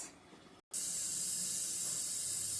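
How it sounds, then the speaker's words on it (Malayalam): Running water for washing rice for chicken biryani, a steady close hiss of flowing tap water that breaks off briefly and then comes back strong. "അരി കഴുകി റെഡിയായിട്ട് വെച്ചേക്കുക"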